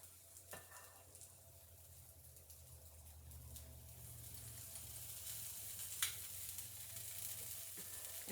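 Pecan pancake batter frying on a griddle turned down to about 300, giving a soft, steady sizzle that builds slightly, with a few faint clinks, heard close but quiet.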